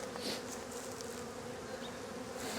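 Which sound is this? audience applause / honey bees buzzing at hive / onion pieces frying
honey bees buzzing at hive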